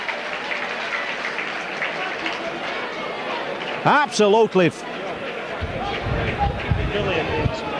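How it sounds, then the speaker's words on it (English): St Helens supporters clap a try during a 1988–89 Stones Bitter Championship rugby league match against Featherstone Rovers, steady crowd clapping and murmur at a distance, with a commentator talking over it and a brief loud whistle-like burst midway. "these St Helens supporters are clapping that try"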